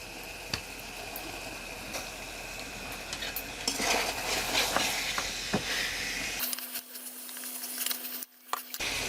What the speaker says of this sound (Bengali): এখন আবারও একটু নেড়ে মিশিয়ে নিচ্ছি।